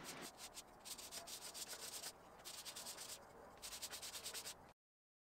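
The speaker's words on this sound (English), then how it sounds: "I did some sanding one last time." Sandpaper rubs back and forth across wood in quick repeated strokes, close up, then stops abruptly into silence.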